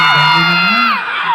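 A loud crowd in Lucena, Iloilo, cheers and yells together at a night show, with whoops and shouts rising in a sustained roar that swells and then dips briefly near the end.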